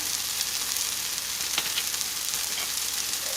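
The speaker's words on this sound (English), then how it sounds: "You're going to add a little bit more oil. And we're going to add our chili powder." Chili powder frying in hot oil in a pan, a steady dense sizzle that holds close and even throughout with no voices.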